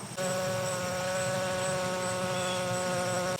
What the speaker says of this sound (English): There's bees in here